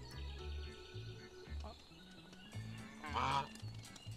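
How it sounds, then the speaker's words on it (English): Geese in the farming game Medieval Dynasty honk in repeated nasal bursts, fairly close and growing louder toward a cluster of calls near the end, over a low rhythmic background hum. "The geese are coming to get me."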